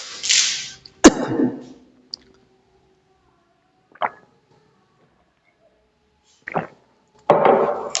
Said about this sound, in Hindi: खांसी आ रहा है थोड़ा सा